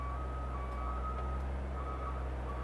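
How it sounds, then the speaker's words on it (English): An excavator's travel alarm beeps at a steady pulse over a loud, constant low engine drone, heard up close. "We want to check our travel alarm,"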